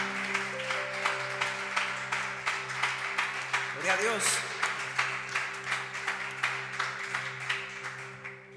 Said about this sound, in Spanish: Dele ese fuerte aplauso a Dios